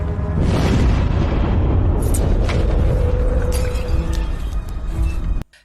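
A loud, close explosion: a deep booming roar that rumbles on for several seconds with debris-like crackle, then cuts off abruptly.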